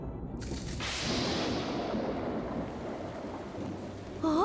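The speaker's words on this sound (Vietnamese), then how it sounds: "Mưa từ khi nào vậy?" Steady heavy rain pours down, a broad hiss with a rumble of thunder beneath, before a voice starts speaking at the very end.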